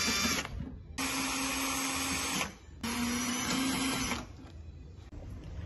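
A power screwdriver whirs in bursts as screws come out of a 2010–2017 Chevrolet Equinox headlight housing: two long, close whining runs separated by short pauses, then a fainter tail.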